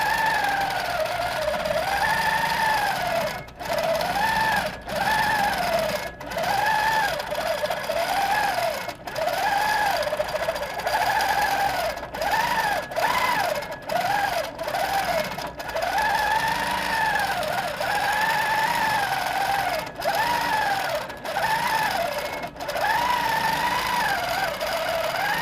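Long arm quilting machine stitching free-motion feather patterns, a steady fast whirring drone with rhythmic rising and falling pitch as the stitching speeds up and slows, broken by brief pauses, close and continuous.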